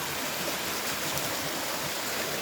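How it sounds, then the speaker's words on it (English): A stream pours over a little waterfall, producing a steady, close, full rushing of water that stays even from start to finish, with no talking. "We'll just listen to the water for a minute"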